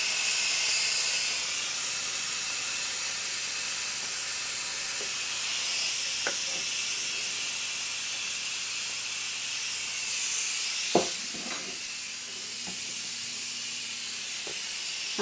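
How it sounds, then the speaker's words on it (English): Pressure cooker valve releasing steam, a loud continuous hiss running steadily throughout with faint kitchen knocks in the background. "Turn my little valve here to release the pressure, and that's going to make a noise."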